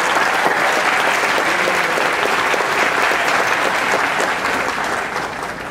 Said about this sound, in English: Let's give our board members a round of applause